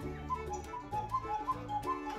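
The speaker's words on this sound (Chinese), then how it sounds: "这个呢是我们模仿布谷鸟叫声的一个哨子啊" A cuckoo clock's bird-call whistle sounds a run of short two-note hoots, repeating steadily and fairly close over a low background rumble.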